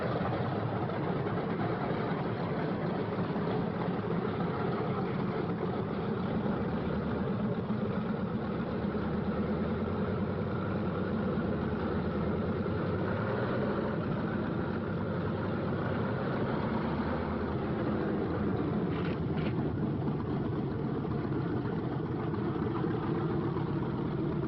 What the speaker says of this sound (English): On the field, planes warm up. It's takeoff time for the Thunderbolts.